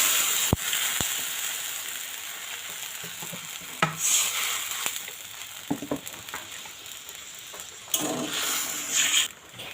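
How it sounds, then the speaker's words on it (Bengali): Sugar and water for syrup bubble softly in a pan while a spoon stirs and scrapes in occasional strokes, with a few sharp taps on the rim. "এইভাবে কিন্তু নাড়াচাড়া করে চিনিটা কিন্তু খুব ভালো করেই গলে নেওয়া লাগবে"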